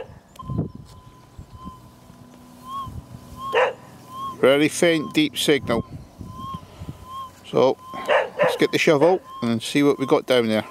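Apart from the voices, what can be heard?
collies and Labradors barking in farm kennels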